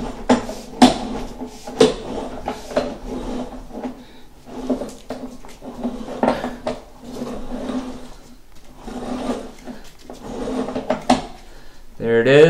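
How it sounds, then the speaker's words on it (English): A chain knocker spins and bangs inside a drain line from an outside access hole, giving repeated loud knocking and rattling bursts through most of the stretch, with a person talking over it. "We can chain knock the rest of this line from our hole."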